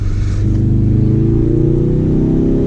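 A 2018 Ford Focus RS engine roars loudly and steadily, its pitch climbing as it accelerates hard, heard from close inside.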